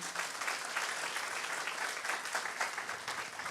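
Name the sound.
applause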